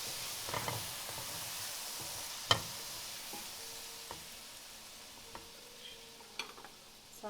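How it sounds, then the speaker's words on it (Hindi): Tomatoes added to garlic in a hot pan sizzle softly and steadily, broken by a few sharp knocks and scrapes of a spoon stirring against the pan. "नेक्स्ट आपने इसमें टमाटो डाल देने हैं"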